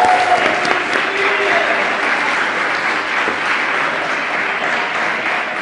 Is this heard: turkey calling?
no